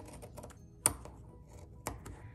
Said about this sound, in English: Next, I'm gonna go ahead and trim off this extra fabric.